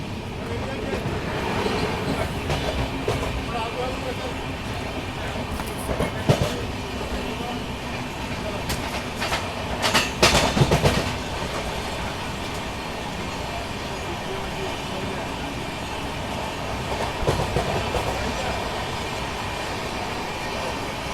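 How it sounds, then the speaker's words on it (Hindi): A Bangalore–Bhubaneswar Duronto Express in motion, with a steady rumble, faint clickety-clack of wheels over rail joints and brief rattling bursts throughout, heard from inside a carriage with quiet voices in the background. "बेंगलोर भुवनेश्वर दुरंतो एक्सप्रेस"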